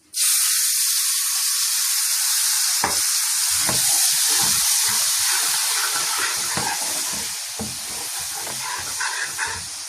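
Water poured into a hot pan holding a thin flour mixture for lamb ribs, bursting into a loud hiss of steam and sizzle that carries on with crackling, spitting bubbles and slowly softens.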